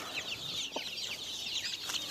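Small spotted bantam chickens cluck softly in a farmyard, with faint scattered calls and a few brief sharp notes over a low, quiet background.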